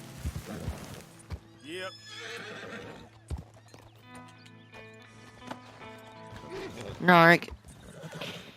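In Red Dead Redemption 2, a horse gives one loud, close whinny near the end, with hoofbeats and game sounds around it and brief talk over them.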